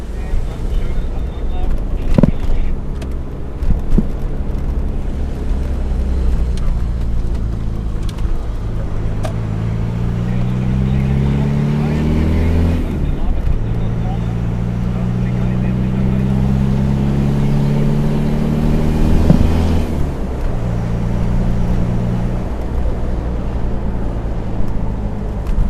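Several Land Rover vehicles rumble past in a long parade on a track at an off-road show, a steady low engine drone running throughout with shifting tones as vehicles pass, while people talk over it.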